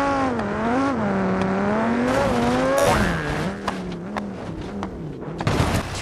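An Audi drives into a suspension bridge in BeamNG.drive, its engine droning and shifting pitch before a crash near the end brings sharp impacts and scraping bursts.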